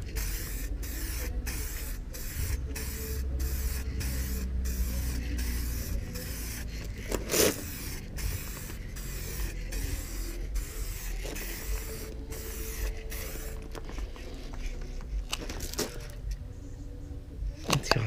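An aerosol spray paint can is sprayed onto a SEAT Léon 1M TDI Cupra 4 in steady hissing bursts, interrupted by regular short pauses and the occasional clack of the can, loud and close throughout.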